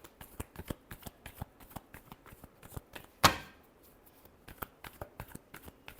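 Tarot cards being shuffled by hand, a quick run of soft papery riffles and taps with one sharper snap midway, close and fairly quiet, with no talking.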